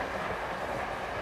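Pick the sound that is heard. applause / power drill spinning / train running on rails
train running on rails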